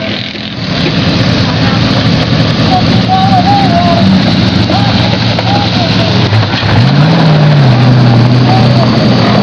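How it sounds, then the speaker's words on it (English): A four-wheeler ATV engine drones loudly nearby as it drives past, its pitch rising and falling, with a steady rumbling roar throughout and people's voices mixed in. "Heads up, four-wheeler."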